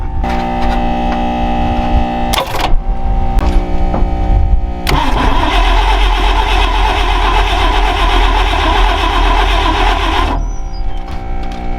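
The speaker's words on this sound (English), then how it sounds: "So got the old Hummer humming along. See if it'll turn over." An old Hummer engine cranks and turns over with a rough, broadband churning that lasts several seconds. It follows a steady electrical hum with a couple of short bursts, then stops, leaving the hum behind.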